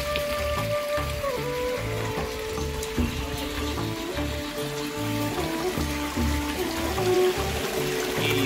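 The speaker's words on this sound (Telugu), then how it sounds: "నిత్యం నిరంతరం ఈ వాటర్ ఇలా పడతానే ఉంటుంది." Water at a temple falls in a constant splashing stream, a close, steady patter and gush that keeps going without pause.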